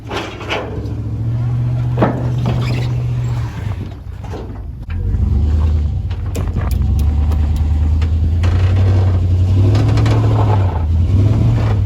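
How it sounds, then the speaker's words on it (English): A Chevrolet S10 pickup truck strains to push another S10 whose wheel is locked up. The engine drones and revs in long sustained notes, with a brief dip before it surges again, loud and close, with some clunks. "the black S10 was not able to push the red S10 on because the wheel's locked up"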